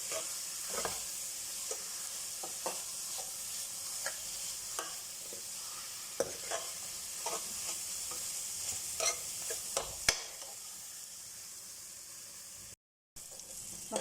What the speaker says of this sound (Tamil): மசாலாஸ் எல்லாம் நல்லா டொமேட்டோவில் வதங்கிடுச்சு.